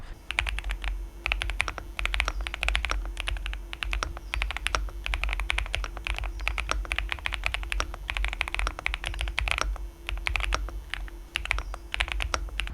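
Steady, rapid typing on an Infi 75 mechanical keyboard, close and fairly quiet, with dense overlapping key clicks and no voices.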